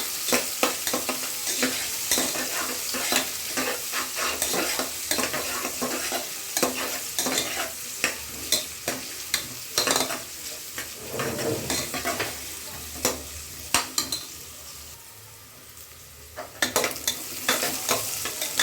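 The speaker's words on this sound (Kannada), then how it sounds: "ಇವಾಗ ಇದಕ್ಕೆ ಕಟ್ ಮಾಡಿಟ್ಟಿರುವಂಥ ದೊಡ್ಡ ಸೈಜು ಈರುಳ್ಳಿ ಹಾಕ್ಕೊಳ್ಳೋಣ. ಇದು ಚೆನ್ನಾಗಿ ಫ್ರೈ ಆಗಬೇಕು." Large chopped onions frying for pulao, a steady sizzle in hot oil with repeated scraping and stirring strokes of a spatula against the pan.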